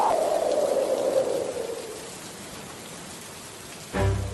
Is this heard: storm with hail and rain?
yes